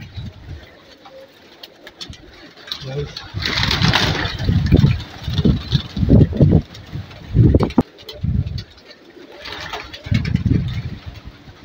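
Pigeons coo in soft repeated bursts while being fed corn, close by, with a faint engine idling underneath and no talk.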